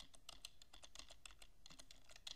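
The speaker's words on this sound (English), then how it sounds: "type in setup.exe" Quick, crisp keystrokes on a computer keyboard come in a rapid, uneven run as a short command is typed. The clicks are close and faint, with no talking.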